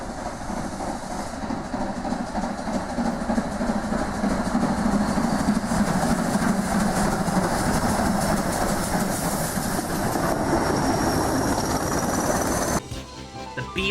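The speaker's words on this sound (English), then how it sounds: "BR Standard 7NT Britannias. This is my favorite steam locomotive ever built by Robert Riddles" A BR Standard 7 Britannia steam locomotive running, heard as a loud, continuous rolling roar with rapid clickety-clack rhythm from the wheels, steady throughout and breaking off abruptly just before the end.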